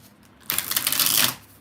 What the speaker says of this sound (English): 4 shuffles for Nelson.